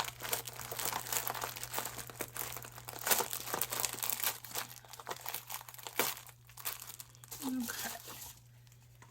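Paper crinkling and tearing while unboxing a craft supply package that was already cut open, continuous close rustling and crunching, with someone speaking briefly over it.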